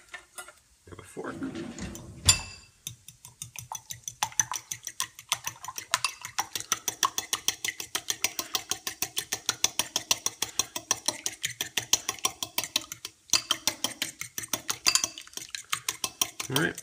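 A fork whisks eggs with salt, pepper and a splash of water in a bowl for an omelet, producing a brisk, even run of rhythmic clinking taps against the dish, close and fairly loud, after a short handling noise at the start.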